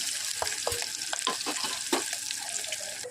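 Hot oil sizzles and crackles steadily as chopped green chillies fry for a dal tadka, with a few sharp pops and faint stirring clinks close by.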